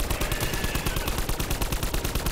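Rapid automatic gunfire from a shooter video game rattles in a dense, continuous burst of sharp shots, steady and fairly loud with no talking over it.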